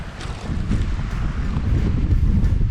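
Strong wind buffets the microphone beside a pond during a fishing outing, a steady low roar that swells slightly louder toward the end, with no voices.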